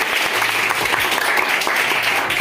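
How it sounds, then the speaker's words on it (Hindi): Audience of students clapping for a boy during a motivational talk, a loud, sustained round of applause that keeps an even intensity from start to finish. "एक बार तालियां बजा दे इसके लिए।"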